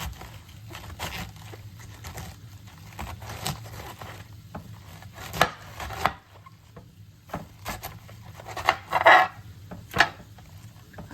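A knife slices through cabbage on a cutting board in irregular crisp cuts and crunches, some louder than others, with rustling leaves between strokes and no talking.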